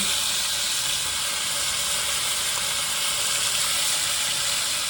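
Triggerfish, snapper and margate coated in flour fry in a pan, giving a loud, continuous hiss and crackle of hot oil that holds steady from start to finish with no voices.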